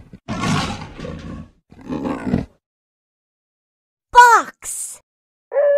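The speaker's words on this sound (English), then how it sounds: "Leopard." Leopard roaring in rough, rasping bursts, followed by short higher-pitched calls, close and fairly loud with no speech.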